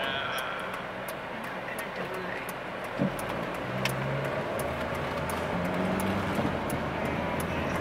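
Inside a moving car on a ride, a steady engine and road rumble drones on, with a few sharp clicks and knocks rising over it and a voice speaking briefly over the noise.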